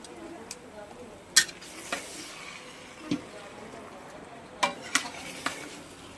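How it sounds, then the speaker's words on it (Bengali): Chicken being stir-fried (kosha) in a pan, a soft continuous sizzle broken by sharp spatula scrapes and clinks against the metal at irregular intervals, close and moderately quiet. "মাংসটা কষাতে থাকছি।"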